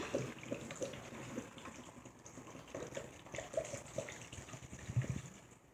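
Hot water pours into a bowl for homemade pickle brine, a steady splashing gush that rises and falls over several seconds, close and fairly loud, with no talking.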